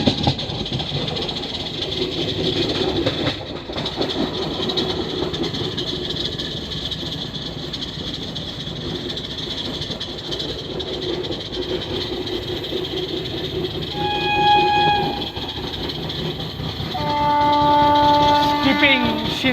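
The Koyna Express passenger train, running from Mumbai to Kolhapur, gives a continuous rattling rumble of wheels on rails inside a carriage, with faint tonal squeals building toward the end.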